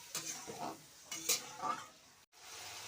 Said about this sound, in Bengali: এক চামচি হলুদের গুঁড়ো একটু জল দিয়ে মশলাটাকে ভালো করে কষিয়ে নেবে